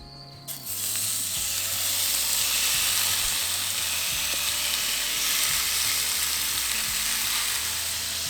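Meat fries and sizzles in a pan on a camping stove outdoors, a loud, dense, unbroken hiss that starts suddenly after a brief clunk and holds steady nearby with no talk.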